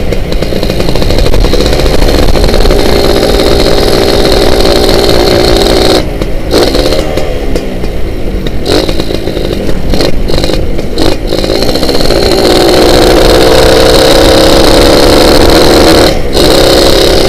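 A Suzuki Satria two-stroke motorcycle engine revs loudly and close up, holding a harsh buzzing drone with brief dips where the throttle is blipped, then climbing back to a steady high rev.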